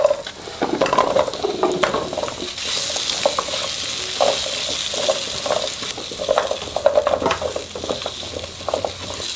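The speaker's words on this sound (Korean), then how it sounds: "단호박을 좀 노릇하게 볶아주세요." Sweet pumpkin pieces stir-frying in about a spoonful of oil over medium heat: a steady sizzle runs throughout, broken by repeated scraping and clacking strokes of a utensil against the pan.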